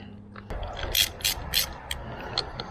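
A bar clamp mount on a handguard being tightened, giving a quick series of sharp ratcheting clicks and mechanical ticks, close and fairly loud, with no talk.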